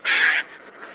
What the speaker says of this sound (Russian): Это чегравы, самый крупный вид из семейства крачковых